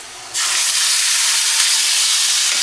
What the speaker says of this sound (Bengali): তেলের মধ্যে পেঁয়াজ, তেজপাতা আর কি দিচ্ছি আমি